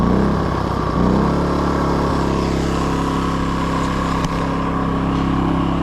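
A Predator 2000 super quiet inverter generator running steadily nearby, a loud, constant engine hum with a smooth, unchanging drone and one brief click partway through.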